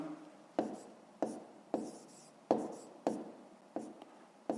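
Pen writing numbers by hand on paper during a fifth-grade math exercise, a series of about eight evenly spaced taps and short scratchy strokes, close and fairly quiet.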